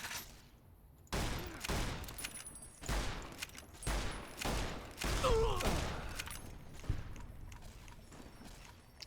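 Gunfire from the Fallout: New Vegas video game comes in a series of sharp, loud bursts, roughly six shots spaced about a second apart, each followed by a short decay.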